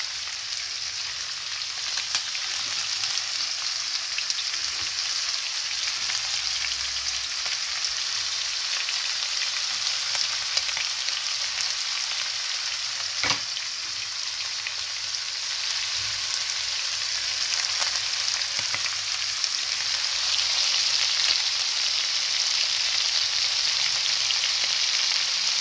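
Colored bell peppers and onion frying in olive oil in a pan, a steady, close, continuous sizzle with faint crackles and a brief stir around the middle, no voices.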